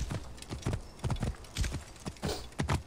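Horse hooves clip-clop in a steady, brisk rhythm in Assassin's Creed Origins, each hoofbeat crisp and close, with no voices.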